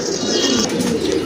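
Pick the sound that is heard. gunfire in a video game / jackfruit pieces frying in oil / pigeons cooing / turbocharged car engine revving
pigeons cooing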